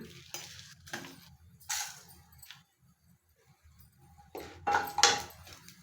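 Green chillies and chana dal crackle in a hot tempering for patrode: short bursts of sizzle and spoon scraping against the pan, broken by quiet gaps, close and fairly soft.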